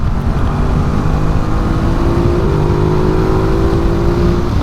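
A 2021 Ducati Multistrada 950 S engine pulls hard as the throttle is wound on during a road ride, a loud steady drone with a rising tone and wind rush, close and continuous.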